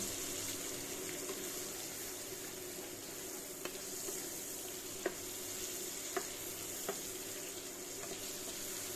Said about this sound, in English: These onions look properly sauteed, so I'm going to add the wetter ingredients now, which are the tomato and sweet pepper.